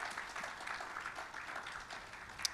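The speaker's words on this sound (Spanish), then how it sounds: "Démosle un fuerte aplauso a los de audiovisuales." A church congregation applauds during a sermon, a steady wash of clapping that sounds distant and fairly faint, lasting a couple of seconds.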